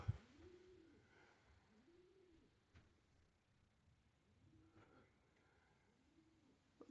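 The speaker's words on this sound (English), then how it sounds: "You can hear the pigeons on the roof." Pigeons coo softly on a roof at Norbreck Castle in Blackpool, a few low, rounded calls repeating at a slow rhythm, faint and somewhat distant in a quiet indoor room.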